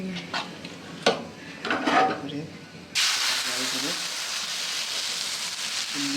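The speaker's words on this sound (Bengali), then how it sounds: "এদিকে তাওয়াটা তো গরম হয়ে গেছে এরপরে তেল দিয়ে দিছি সাদা তেল" White cooking oil hits a hot tawa griddle and bursts into a loud, steady hissing sizzle that continues without pause, following some quieter handling sounds and brief talk.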